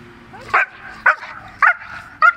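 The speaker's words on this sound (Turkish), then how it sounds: "Çok güzel köpeğiniz var" A purebred German Shepherd working as a rescue dog gives four short, loud, close barks, evenly spaced about half a second apart, with a faint whine between them in a quiet indoor setting.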